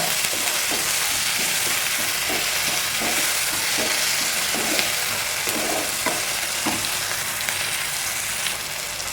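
Tomatoes sizzle and fry steadily in a hot pan while being stirred for fish biryani, a continuous close crackle with occasional scraping taps, no talking.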